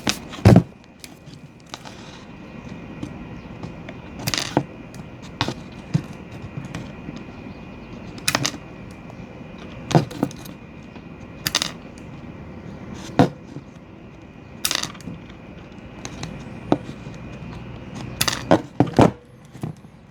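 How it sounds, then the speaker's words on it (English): Wire cutters snipping pins off a non-waterproof e-bike motor connector, a series of sharp, close clicks spaced a second or two apart over a quiet workbench background, with no talking. "So now I'm going to cut these pins off."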